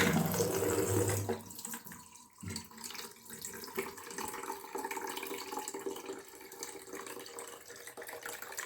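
Water poured into the mop water tank of an Inalsa Homeland Gyro robot vacuum cleaner, a close gushing splash that briefly stops, then resumes as a softer steady trickle.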